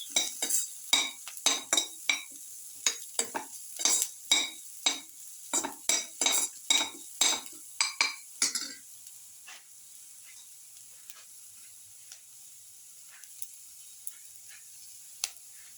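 Garlic sautés in a pan for a garlic cumin winter melon yogurt dish, with a burst of sharp clinks and spatula scrapes against the pan, then a quiet steady sizzle with sparse faint taps.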